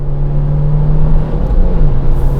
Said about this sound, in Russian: Коробка воет